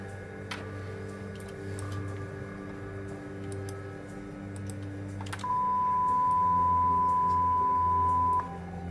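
An electronic tone used as a sound stimulus to force awakening during deep sleep in a sleep lab plays as one steady sustained beep lasting about three seconds, over a constant low equipment hum with a few faint clicks beforehand.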